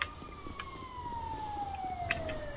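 An ambulance siren from the video game GTA 5 wails as one long, fairly faint tone that slowly falls in pitch across the whole span, with light background game noise and a few brief clicks.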